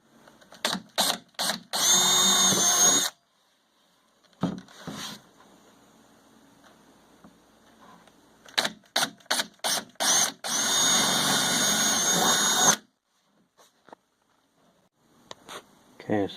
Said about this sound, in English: Okay, so I got all the holes drilled